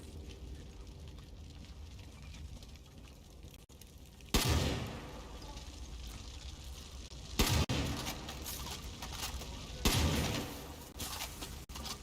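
Explosions in Far Cry 5 burst out three times, loud and sharp with a rumbling tail, at uneven intervals over a low steady game background.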